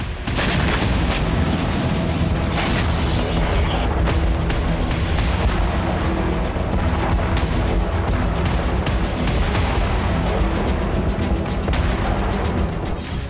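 A loud, unbroken roar of explosion and fire from a drone strike on an oil tanker, punctuated by repeated sharp booms and crackling bursts.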